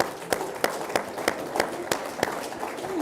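An audience claps in a sparse, uneven rhythm of distinct sharp claps rather than full applause, with faint murmuring underneath.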